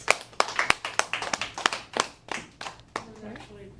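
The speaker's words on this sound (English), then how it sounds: "Let's give Ian and Will another round of applause" A small group claps for two people named Ian and Will: a sparse, uneven run of distinct hand claps, close and fairly quiet, tapering off after a few seconds.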